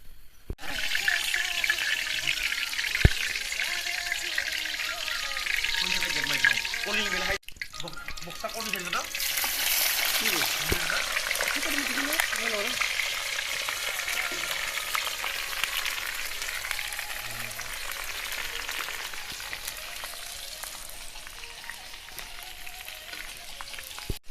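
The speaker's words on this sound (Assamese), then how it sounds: "হাঁহ তুলি দিছে কেৰাহীত একে চালিয়া পূৰা ধামাকা তেল" Steady loud sizzling of duck meat frying in hot oil in a wok at a night picnic, continuous throughout with occasional stirring clatter and faint voices in the background.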